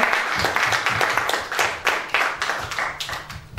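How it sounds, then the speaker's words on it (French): Rhythmic clapping from a church congregation praising the Lord, steady and fairly close, with hands striking in quick overlapping beats and no voices over it. "Applaudissons pour le Seigneur"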